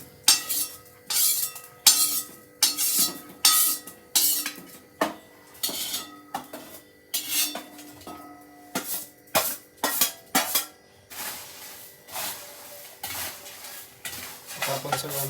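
Poha chivda with roasted sesame seeds is tossed and mixed by hand in a metal pan. Close rhythmic rustling and scraping strokes come roughly once a second, with light metallic clinks and no talking.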